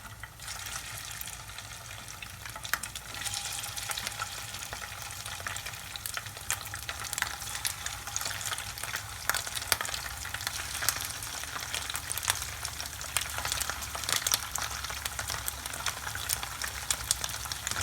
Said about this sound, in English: So now it's time to fry our wagashi.